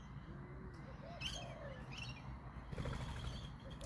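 A young red-beaked bird gives a few faint, thin chirps and short whistled calls close by, scattered over steady low background noise.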